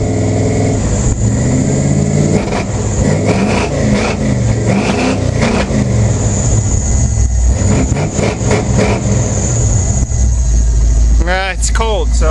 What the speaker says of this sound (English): It is cold, so I don't want to rev it up too much yet.